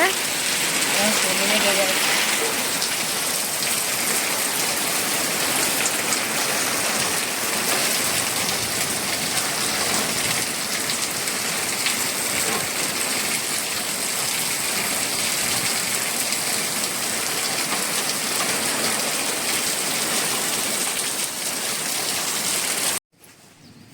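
Steady rain pours down close by, a constant hiss of drops striking surfaces that continues unbroken before cutting off abruptly at the end.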